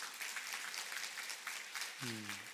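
A church congregation at Sunday service applauds to welcome a member, a faint, steady wash of clapping that runs on before a voice begins speaking over it at the end.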